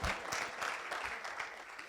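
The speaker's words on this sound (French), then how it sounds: "On peut l'applaudir," Faint, steady clapping from a congregation in a church, continuous and fairly distant, with no voices over it.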